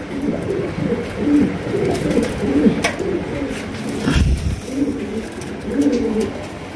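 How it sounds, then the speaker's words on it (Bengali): A pair of beauty pigeons coos in a steady, low, throaty rhythm throughout, with repeated soft calls close by and no talk. "দর্শক এখানে রয়েছে একজোড়া বিউটি কবুতর"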